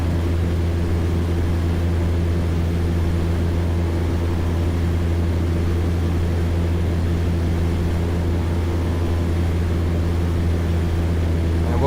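Steady, loud drone of a Cessna 208 turboprop engine at climb power in X-Plane 11, a constant hum with strong low tones and an even broadband rush throughout, no voices.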